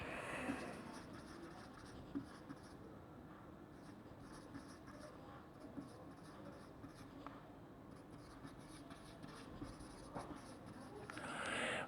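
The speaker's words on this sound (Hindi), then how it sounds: "तो चलो अमाउंट को लिख लेते हैं" Pen scratching steadily on paper while entries are written for an accounting exercise, a continuous close, soft scribbling texture with small taps and pauses.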